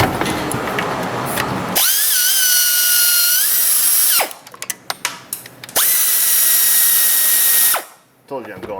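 A power tool, such as an impact driver, spins bolts out of the plastic timing belt cover on a Honda 3.5 J35 V6, giving two loud sustained whirring runs split by short clicks and handling clatter.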